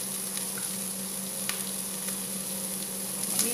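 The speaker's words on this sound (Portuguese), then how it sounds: "refogar mais um pouquinho para dourar a cebola com o alho" Onion and garlic sautéing with calabresa sausage in a pan give a steady, even sizzle and crackle, close and moderately quiet, with a few faint stirring taps and no voices.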